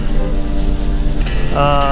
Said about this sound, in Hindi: आज बारिश नहीं रुकने वाली है और बारिश का कोई लिमिट नहीं है आज